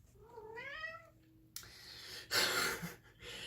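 A house cat meows once in a rising, drawn-out call at close range, followed by quiet room noise and a burst of soft breathy rustling, with no talking.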